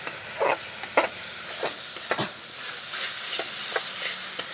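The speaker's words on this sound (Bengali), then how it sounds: "খুব ভালো করে মশলাটাকে কষাতে হবে।" Spiced masala paste being sautéed with sugar in a pan for a Bengali prawn and potato dish, giving a soft steady sizzle with repeated scraping stir strokes about every half second.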